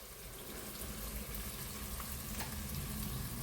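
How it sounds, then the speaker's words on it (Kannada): Ingredients fry in a pan over a high flame while a sardine curry is being made, giving a steady, dense sizzle that stays even and fairly close throughout with no talking. "ಹೈ ಫ್ಲೇಮಲ್ಲಿಟ್ಟು ಫ್ರೈ ಮಾಡಿ. ಇದು ಹೀಗೆ ಫ್ರೈ ಆಗ್ತಾ ಇರಲಿ."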